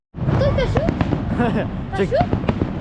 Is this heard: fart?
no